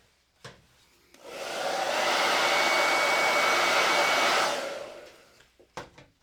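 A hair dryer blows on a layer of paint for a gnome craft, switching on after a click, roaring steadily and close for a few seconds before winding down, with faint handling noises around it.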